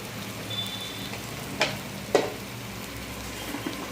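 Onion and tomato fry for a Konkan dried fish dish, giving a steady soft sizzle with a couple of sharp clicks of a utensil against the pan.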